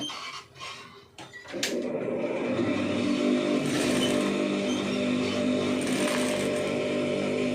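Sewing machine stitching a pom pom sleeve, its steady mechanical hum and rapid needle clatter starting abruptly after a brief pause and running continuously and loud to the end.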